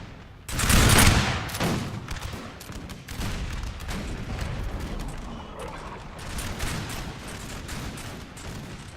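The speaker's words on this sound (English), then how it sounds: "let's just watch this volley from the line infantry here" Musket volley from line infantry in the Napoleon Total War 3 battle game: a loud crackling fusillade bursts out, then rolling gunfire and scattered shots continue steadily through the whole stretch.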